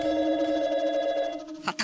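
A telephone rings in a home in a Marathi TV drama, a steady electronic tone that stops abruptly before a short knock-like sound.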